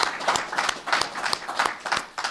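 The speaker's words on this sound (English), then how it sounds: "We'll clap it up again on that one." Hand clapping at a college football recruiting-class press conference, a rhythmic series of sharp claps that come close together and sound fairly near, at moderate volume with no talk over them.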